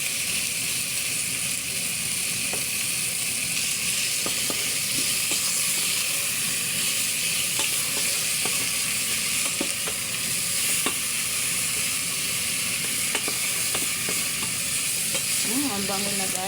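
Chicken pieces sizzle hard in a hot pot as tinola is started, with a dense, steady frying hiss and scattered clinks of stirring throughout, close and loud with no talking.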